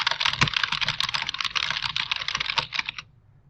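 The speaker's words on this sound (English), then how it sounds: "we're going to go ahead and do a little typing" Fingers type quickly on a computer keyboard, a close, rapid run of clicking keystrokes that lasts about three seconds and then stops abruptly, leaving near silence.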